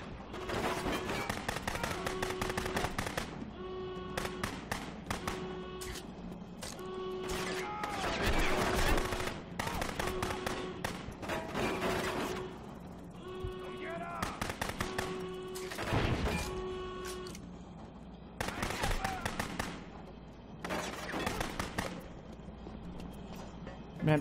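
Rapid bursts of enemy gunfire in the shooter game Rogue Warrior, loud and sustained with short pauses between volleys, mixed with game effects and a faint voice at times.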